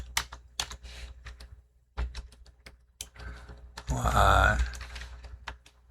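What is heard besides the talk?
typing on a computer keyboard in command prompt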